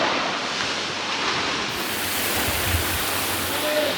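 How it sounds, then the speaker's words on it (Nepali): The Salamey waterfall in Nepal roars as a steady broadband rush, moderately loud and unbroken from start to finish, with no talk over it. "ल सलामी झरना चाहिँ पछाडि"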